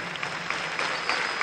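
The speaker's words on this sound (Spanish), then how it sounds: "vamos a darle un aplauso al doctor Jorge Rodríguez" An audience at a meeting with military cadets breaks into steady, dense applause, a continuous crackle of many hands clapping at moderate loudness.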